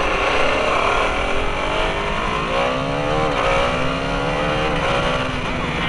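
A KTM Adventure 390 motorcycle with a quick shifter pulls hard, its engine droning loud and close as the pitch climbs and drops through quick gear changes, with constant wind rush and no talking.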